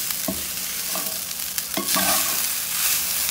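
Garlic fried rice made from leftover rice is stirred in a hot pan, with a few sharp scraping strokes over a continuous loud sizzle and no voices.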